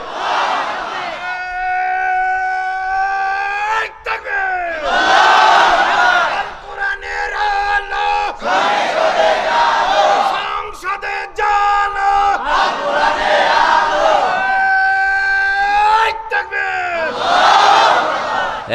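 A large gathered crowd at an Islamic religious sermon roars the takbir in unison, several long swelling chanted shouts alternating with a single amplified voice leading the call, loud and echoing.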